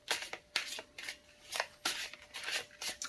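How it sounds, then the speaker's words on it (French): Tarot cards drawn from a deck and placed down one after another, a quick run of crisp card slaps and shuffling swishes close to the microphone, with no talking. "Je vais placer les cartes ici."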